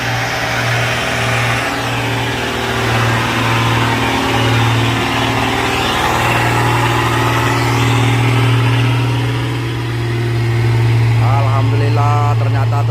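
A tanker truck engine labours uphill on a steep road, a loud, sustained mid-pitched drone that rises and falls as it revs, heard close, with voices chattering near the end.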